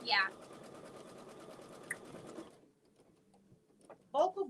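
An embroidery machine stitches a bag with a rapid, steady mechanical chatter for a couple of seconds, then stops; a voice speaks briefly at the start and again near the end.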